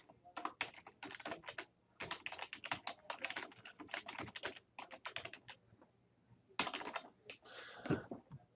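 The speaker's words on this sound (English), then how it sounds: "don't sit here and type your comments" Quick bursts of keystrokes clatter on a computer keyboard, close and fairly quiet, in several runs separated by short pauses.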